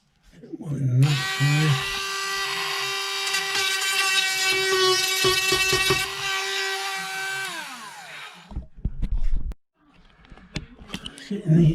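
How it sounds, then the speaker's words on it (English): Power drill driving screws into tough wood while fitting hardware, a loud whining motor run of several seconds that winds down, followed by shorter bursts, with someone talking near the start and at the end. "Getting these screws in here."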